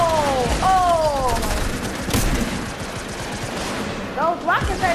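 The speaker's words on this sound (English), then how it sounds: "Those rockets ain't no joke." Rockets explode in the video game Fortnite, with a sharp blast burst in the middle over a loud, continuous game soundscape and a voice whose pitch swoops up and down at the start and near the end.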